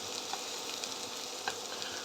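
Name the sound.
onions and pre-cooked sausages cooking in a pot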